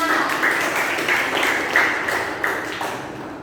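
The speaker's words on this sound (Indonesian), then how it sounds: "tepuk tangan untuk kelompok 4" A seventh-grade class claps for a student group after its presentation, a dense, steady patter of many hands filling the room with small sharp accents, fading slightly toward the end.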